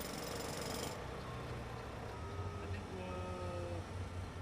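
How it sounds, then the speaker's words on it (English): A specially outfitted skid steer hammers out concrete along a building foundation, giving a steady rattling jackhammer-like pounding with a droning engine underneath, continuous and fairly close. "this specially outfitted skid steer hammers out concrete along the foundation beside the hinge row"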